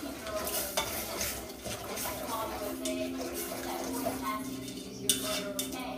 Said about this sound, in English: And then I'm gonna stir it a little bit so it won't stick to the bottom.